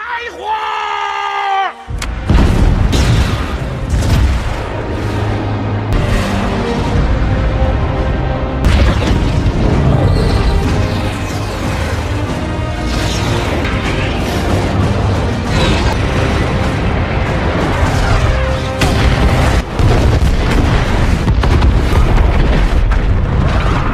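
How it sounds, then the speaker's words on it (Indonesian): Missiles strike enemy soldiers and tanks in an action film battle scene, with loud booming blasts, rumbling impacts and crowd-like shouting, dense and continuous for over twenty seconds after a brief quieter opening. "mereka pun langsung menembakkan rudal-rudal mereka dan menghancurkan para musuh serta menghancurkan tank-tank mereka"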